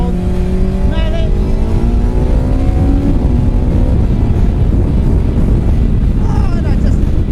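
MK Indy R kit car with a first-generation Suzuki Hayabusa 220 bhp engine accelerating hard at full throttle, rising engine tones climbing through gears under loud wind buffeting close to the microphone.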